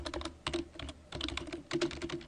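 Someone types on a computer keyboard while working in MS PowerPoint 2010: quick, irregular clusters of light key clicks, fairly quiet and close, with no talking.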